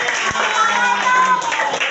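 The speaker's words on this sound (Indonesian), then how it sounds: "tepuk tangan buat kalian semuanya" A classroom of students claps together at their teacher's call, a brief burst of hand clapping mixed with children's voices and chatter in the room.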